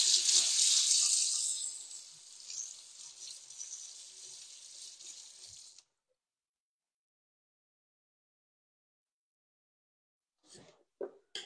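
Tap water runs loudly into a sink while a kitchen spatula is rinsed, then stops abruptly, leaving silence broken only by a few faint clatters at the end.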